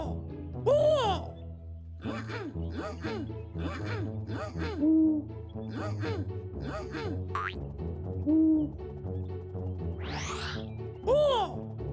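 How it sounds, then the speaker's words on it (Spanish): A cartoon-style owl hoots repeatedly in rhythmic calls over upbeat children's music, with a springy boing effect near the end. "¡Búho! ¡Búho!"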